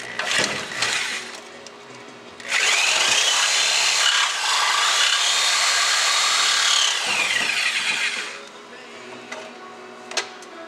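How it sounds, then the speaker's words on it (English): A power saw cuts through the subframe of a Nissan 350z during a differential bushing job, a loud harsh grinding rasp lasting about six seconds, framed by quieter clatter and handling noise before and after. "It's hard to know when I'm about to cut through the subframe."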